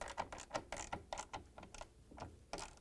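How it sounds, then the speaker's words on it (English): A 7/16 socket wrench tightens a nut while a Frigidaire washer vane is being fitted: a run of quiet, close ratcheting clicks in irregular bursts, soft and with no speech. "And now the 7/16 socket wrench. We're going to tighten that nut."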